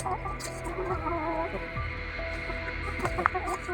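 Chickens cluck in a busy, steady chorus nearby while being fed, with occasional sharper calls and a brief louder squawk near the end.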